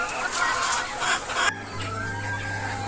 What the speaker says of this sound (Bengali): এই যে এই সাইডে মুরগিগুলো থাকে,